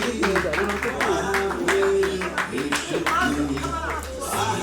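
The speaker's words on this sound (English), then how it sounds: "let's keep clapping" People clap at an anniversary award presentation, a scattered run of close handclaps mixed with voices talking over them.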